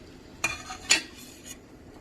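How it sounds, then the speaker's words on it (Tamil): Vegetables with peas are stirred and sautéed in a pan for Indian-style veg pasta, giving two or three quick spoon scrapes and clinks against the metal over a soft, faint sizzle. "இப்போ இது எல்லாத்தையும் கலந்து விட்டுக்கிட்டு ஒரு 2 மினிட்ஸ் வதக்கலாம்."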